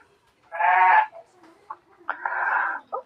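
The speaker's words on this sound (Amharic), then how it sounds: "ከበጎች ግቢ አካባቢ ያሉትና በጎች እየጮሁ ስለሆነ ድምጻቸው እንዳይረብሻችሁ ይቅርታ።" Sheep bleat in a pen, two long loud bleats with a few shorter calls between them, close by and alone against a quiet background.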